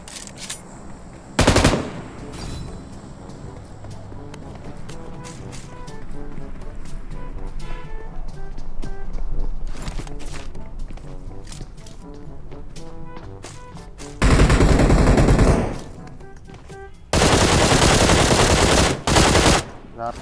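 Automatic gunfire in PUBG Mobile: loud bursts of rapid fire crack out over steady in-game background sound, with a short burst early and two long sustained sprays near the end.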